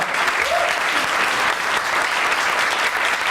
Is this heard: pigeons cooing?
no